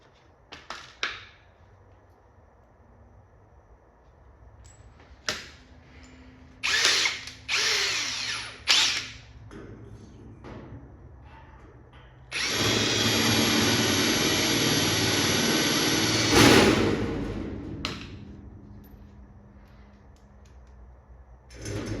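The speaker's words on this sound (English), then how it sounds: "the holes will be drilled" A power drill boring holes in a 60 gallon steel air compressor tank: short whining bursts at first, then a long sustained loud grind of several seconds, heard close with no talk.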